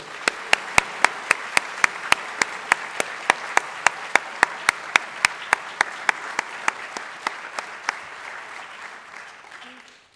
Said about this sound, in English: Let's give Sashka another round of applause.